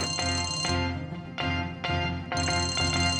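A phone ringtone plays on its own, a bright repeating electronic melody in bursts with short gaps, loud and close.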